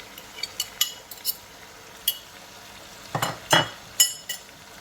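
Whole spices go into a hot pan and are stirred, giving a soft sizzle under scattered spoon scrapes and clinks against the metal, with a few sharper knocks near the end.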